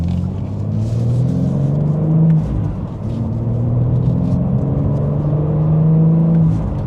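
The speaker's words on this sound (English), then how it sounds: "we'll give it another acceleration from second gear here." A 2025 BMW M4 with a manual transmission pulls hard from second gear, its engine rumbling and rising steadily in pitch with a brief dip at a shift, loud and close with no talk over it.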